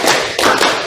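Classroom of pupils clapping hands in a counted pattern, a few quick sharp claps close together, loud and near with no talking over them.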